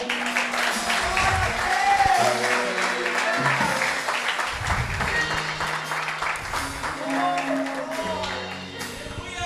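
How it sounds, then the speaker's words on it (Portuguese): A church congregation breaks into applause, a broad rustle of clapping running beneath voices and tonal sound that carry on over it for the whole stretch. "Você pode aplaudir esse Pai?"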